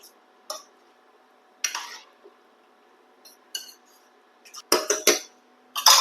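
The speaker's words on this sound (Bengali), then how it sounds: "এবার চিকেনটাকে শুধুই নেড়ে যেতে হবে" A spoon clatters and scrapes against a cooking pot while chicken bhuna is stirred, in short separate bursts with quiet gaps between them and a cluster of louder scrapes near the end.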